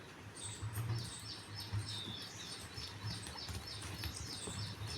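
Birds chirp faintly during a children's play at an anganwadi, short repeated tweets scattered over a low background murmur.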